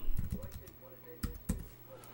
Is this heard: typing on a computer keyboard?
yes